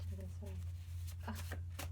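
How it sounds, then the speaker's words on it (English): Playing cards riffle and flutter in quick bursts, faint and close, over a low steady hum with someone speaking. "me shuffling all day and no cards coming out"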